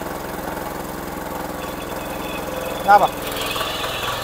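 A farm machine engine idles with a steady, close mechanical chug while a man gives instructions over it, followed by a brief louder knock as the accelerator is applied.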